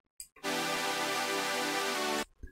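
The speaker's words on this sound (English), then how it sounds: "The Harmer patch sounds like this" A Harmor synth saw-layer patch for melodic bass music plays a bright, buzzy sustained chord with rich harmonics, loud and close, lasting about two seconds and then cutting off abruptly, with brief quiet bits before and after.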